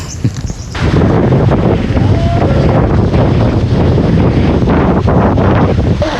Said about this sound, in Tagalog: Lakas na naman ho ng ulan. Ay, ulan ng hangin.